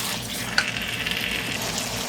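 A quarter cup of water goes into a hot pan of frying chicken, producing a continuous hissing, bubbling sizzle with a small clink partway through.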